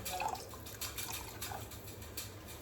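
Water pours and splashes into a pot for chicken curry, a soft, steady liquid sound with a few drips, fairly quiet and close.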